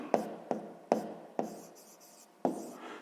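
Pen strokes on paper while numbers are written out for a sixth-grade maths exercise: five sharp scratchy onsets, each fading into a short scribble, close and fairly quiet with no talk.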